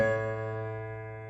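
A single piano chord from a song's chorus, struck once and left to ring and fade alone over about a second.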